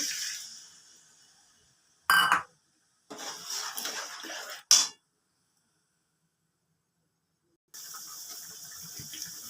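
Broth pours into a pan for a rui fish malai curry in a few separate bursts of liquid splashing, broken by short silent pauses, with no talking.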